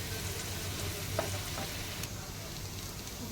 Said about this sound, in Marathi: शेंगदाणे घेतले होते हे टाकलं आणि आपल्याला परतून घ्यायचं.